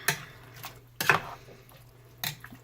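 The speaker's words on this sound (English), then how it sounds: "I'm gonna mix it all up." A spoon stirs chicken stew in a metal pot, giving three separate scraping clanks at irregular intervals over a low steady hum, close and clear with no talking.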